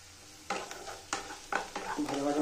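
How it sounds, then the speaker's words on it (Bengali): Crushed garlic dropped into hot oil, a close crackling sizzle with several quick stirring scrapes and clatters of a utensil against the pan, no talking. "এটাকে আমি এক অল্প করে তেলের মধ্যে দিয়ে দেবো,"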